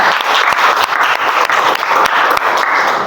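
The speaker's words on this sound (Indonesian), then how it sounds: "Tepuk tangan untuk kita semua." Students applauding together in a classroom, a loud, close, continuous burst of clapping with sharp individual claps standing out from the crowd throughout.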